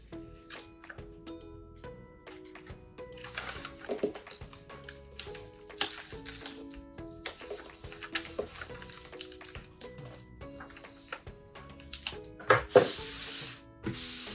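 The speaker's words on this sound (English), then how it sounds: "I'm going to peel the tape away and stick down." Adhesive tape rasps and crackles as it is peeled off a roll and pressed down onto wrapping paper while a large present is wrapped, with scattered taps, rustles and a louder tearing burst near the end.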